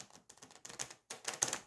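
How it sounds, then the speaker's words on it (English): Tarot cards riffle shuffled at the corners give a quick series of close, crisp fluttering bursts in a few short runs, with no talk. "riffle shuffled the corners"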